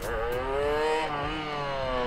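A motorcycle engine revs briefly and steadily nearby, a buzzing mid-pitched drone with slight rises in pitch.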